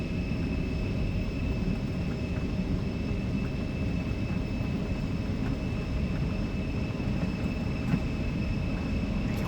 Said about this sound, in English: Takeoff thrust is set, airspeed is active.